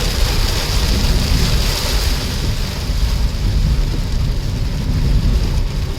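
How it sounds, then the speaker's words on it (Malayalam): Heavy night rain drumming steadily and loudly on a moving car on the Chalode bypass highway, a dense continuous roar with no voices. "ഇവിടെ എത്തിയപ്പോൾ നല്ല മഴ, അടിപൊളി സൂപ്പർ മഴ."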